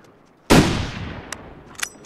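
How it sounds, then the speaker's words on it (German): A single loud rifle gunshot in the survival video game The Long Dark cracks sharply and then rolls away in a decaying echo, followed by a couple of small clicks. "Oh Gott, wo ging denn der Schuss hin?"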